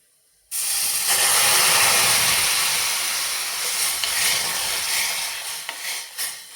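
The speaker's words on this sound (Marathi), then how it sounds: "तर हे दूध यामध्ये घालून घ्यायचं" Milk goes into a hot roasted mixture for payasam and sets off a sudden loud sizzling hiss, which keeps going steadily and fades a little as it settles.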